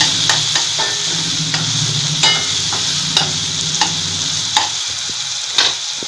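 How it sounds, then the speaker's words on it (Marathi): Onion being stirred with salt and turmeric in a pan while cooking sprouted chickpea bhaji, a spoon repeatedly scraping and clicking against the metal over a steady sizzling hiss, with no talking. "कांदा मिक्स करून घ्यायचं."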